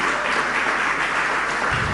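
Lecture audience applauding in honor of Sigmund Freud, a steady, loud wash of many hands clapping throughout, with no voice over it.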